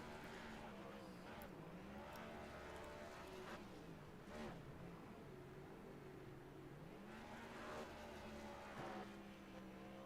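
A race car engine drones and revs with a rising and falling pitch while spinning donuts in the iRacing simulator, a steady, fairly quiet sound on its own.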